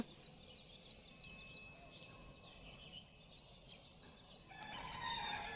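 Chickens cluck faintly in the distance over a constant chorus of chirping insects in an open outdoor setting.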